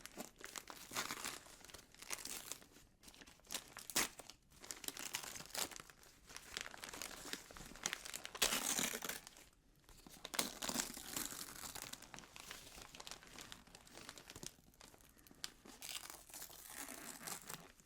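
Snowy, wintry-patterned Christmas wrapping paper crinkles and crunches up close for a long stretch, with continuous rustling broken by short sharp tearing bursts and a few brief quiet gaps.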